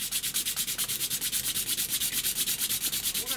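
Sandpaper rubbed back and forth along a Teisco guitar neck to bring superglue-filled gaps flush, a steady rapid rhythm of close, scratchy strokes, roughly eight per second, with no talking.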